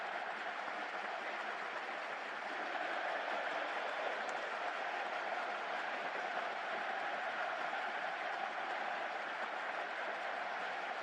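A large crowd roars continuously, a steady wash of cheering and applause-like noise that stays at an even level throughout without distinct voices.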